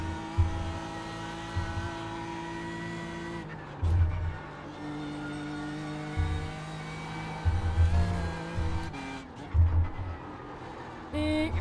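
Race car lapping the Nürburgring 24-hour circuit in a sim racing game, its engine droning steadily and rising and falling through repeated revs and gear changes, with occasional tire squeal.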